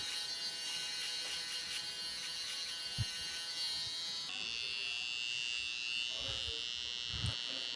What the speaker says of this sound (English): Here I'm using trimmer.